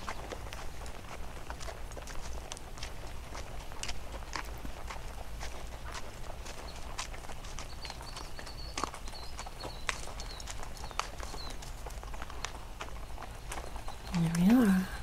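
Horses walk along a mountain forest trail, hooves clip-clopping in a steady, unhurried rhythm at close range over faint outdoor ambience, with a brief louder rustle at the end.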